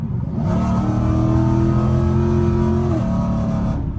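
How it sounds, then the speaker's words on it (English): A Chevrolet Camaro SS/ZL1 accelerates at full throttle from inside the cabin. The engine note climbs in a steady, loud pull, then drops suddenly at a downshift and keeps droning. "I'm gonna jump on the gas all the way."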